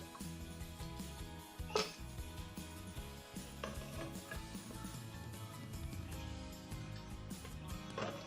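Utensils stir and scrape through mutton kunna, a matki gosht handi, as it is dished out, giving steady soft clinks and scraping with one sharper clatter, fairly quiet and with no talk.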